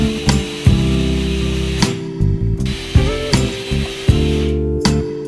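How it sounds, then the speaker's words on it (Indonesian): A power drill countersinks pre-drilled holes in pine finger-jointed laminated board for a floating table, loud whirring bursts that start and stop repeatedly, each a few seconds long, with short pauses between. "kita countersink semua lubang bor yang sudah kita buat tadi"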